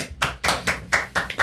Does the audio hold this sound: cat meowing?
no